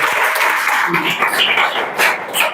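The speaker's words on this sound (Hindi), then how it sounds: "चला जोरदार ताली सब दिन के लिए" A class of students claps loudly together in a dense, steady burst of applause, close and continuous, with a voice mixed in.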